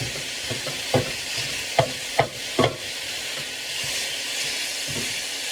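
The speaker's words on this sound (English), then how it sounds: "So you just want to brown all the meat." Ground meat browning in a frying pan for a breakfast bake, with a steady sizzling hiss and a few sharp scrapes of stirring.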